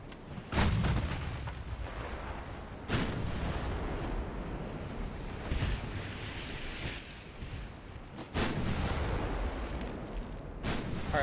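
Naval gun salvos in the warship game Ultimate Admiral Dreadnoughts, several heavy booms spaced a few seconds apart over a constant roar of sea and wind, loud and close.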